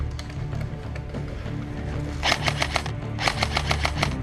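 Bursts of airsoft gunfire crackle in quick rapid-fire strings during an intense battle near a bunker. The shots are moderately close and come in two clusters over a steady background.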